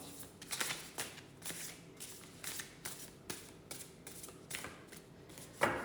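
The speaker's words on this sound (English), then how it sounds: "let's do just one more riffle shuffle" Playing cards are riffle shuffled again and again, each quick fluttering burst followed by a short pause, close and fairly quiet.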